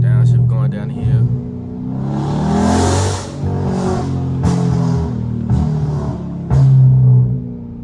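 A straight-piped 2022 widebody Dodge Charger rumbles loudly and revs as it drives, its engine note rising and falling over several seconds, heard close from inside the car.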